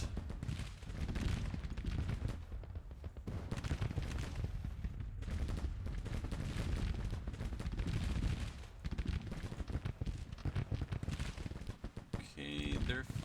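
Musket volleys crackle and roll as troops fire in the Civil War strategy game GTCW, during a Spring 1861 Confederate campaign. The sound is dense, distant and fairly quiet, with someone talking over it.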